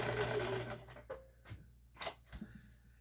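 Sewing machine quilting a blanket, its steady rapid needle chatter running loud for the first second, then stopping and starting in a few short bursts with pauses between.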